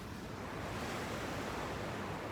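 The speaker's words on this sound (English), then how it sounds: "look at this beautiful ocean behind me" Steady ocean surf washes onto a beach on a breezy day, a continuous broadband roar with some wind rumble on the microphone and no voices.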